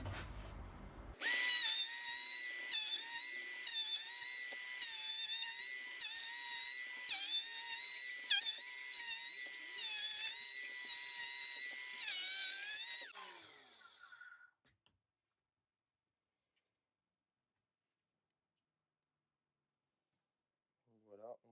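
A Ryobi One+ R18PL cordless planer makes several passes over a wooden board, giving a loud, steady high-pitched whine with a slight rhythmic wobble for about twelve seconds. It then winds down, and quiet follows.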